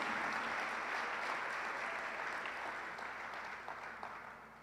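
A church congregation applauds in a broad, sustained roar of many clapping hands, heard from a distance and fairly faint, tapering slightly toward the end.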